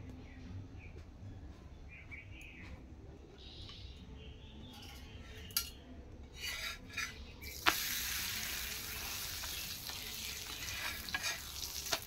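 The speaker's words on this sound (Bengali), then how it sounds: "এরপরে আমি ঘি ছড়িয়ে দেবো।" Ghee spread onto a hot tawa griddle while cooking a vegetarian pumpkin dish, a faint sizzle that bursts into a loud steady hiss partway through, with occasional scraping clicks and no talking.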